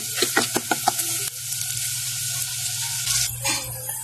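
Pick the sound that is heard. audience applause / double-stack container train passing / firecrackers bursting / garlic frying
garlic frying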